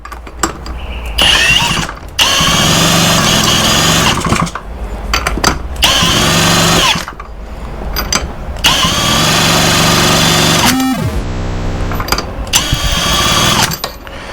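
Yamaha Passola scooter engine cranked repeatedly in several long, loud bursts of mechanical whirring with short pauses between, ending in a rising whine near the end.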